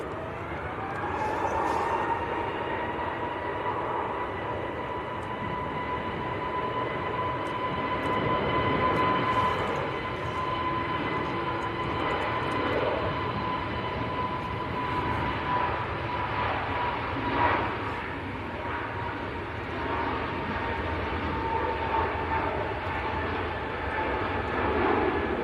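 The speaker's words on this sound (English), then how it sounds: "Jet 2, 737-800" A Jet2 Boeing 737-800 airliner at Manchester Airport, a steady broad jet engine roar with a whining tone that holds loud and unbroken for the whole stretch, with no talk.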